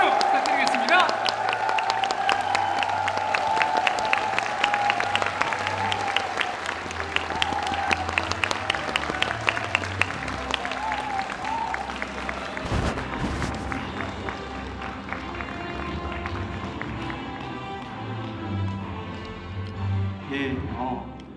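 A hall audience at a microbiome event gives warm applause as a company CEO is welcomed onto the stage, dense rapid clapping that runs for about twenty seconds before gradually thinning out, with some voices beneath it.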